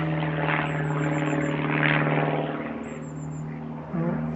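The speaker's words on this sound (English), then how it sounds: "I've got a plane in the sky I can hear." A propeller plane drones steadily overhead while performing a loop, a continuous engine hum with a sustained buzzing tone that swells slightly midway, alone without talk.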